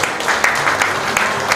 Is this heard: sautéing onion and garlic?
no